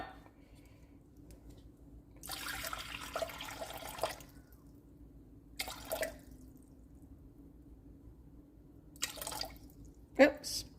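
Water is poured into a bowl while measuring it for a sourdough discard bread dough, in a few short splashing bursts separated by quiet pauses, with a final sharp drip near the end.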